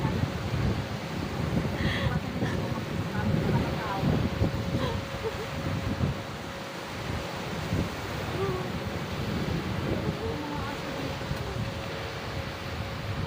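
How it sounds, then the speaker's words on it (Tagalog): Strong wind buffets the microphone in a constant loud rumble, with faint voices now and then under the roar. "Ang lakas ng hangin."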